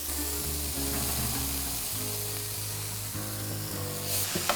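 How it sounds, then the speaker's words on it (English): Boiled potatoes, a kilo of them, sizzle steadily in a hot frying pan for several seconds, with a constant broadband hiss under louder background music. "I'm just going to drain them and then we're going to add them to the pan."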